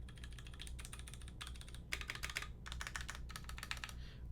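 Typing on a KBD 661 mechanical keyboard fitted with lubed, retooled black switches: close, steady bursts of keystrokes in several runs separated by short pauses, alone and clearly heard.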